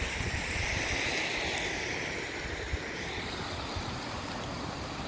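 Water flowing across the top of a ford crossing on a rural property, a continuous broadband rush with wind-like hiss, steady and moderately near, without speech.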